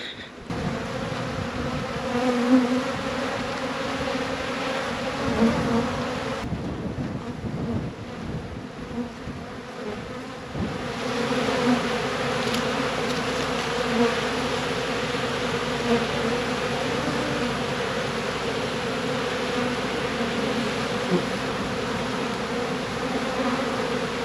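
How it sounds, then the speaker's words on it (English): Honey bees buzz steadily around farm hives, a dense continuous drone close by with a slight dip partway through, no voices present. "some of the bees were trying to get in through the back of the colonies and the back of the hives"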